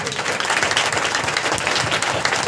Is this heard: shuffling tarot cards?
no